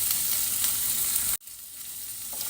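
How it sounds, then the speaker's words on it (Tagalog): Onion, tomato, labuyo chili and pre-boiled ground meat sizzle in a pan as they are sautéed. The loud, steady frying hiss cuts off abruptly partway through, then returns more quietly. "Gisa muna natin siya mga mahal ko"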